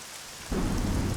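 Heavy rain, loud and close, begins abruptly midway after a faint hiss, turning into a dense steady roar of rainfall with a deep rumbling undertone and no voices.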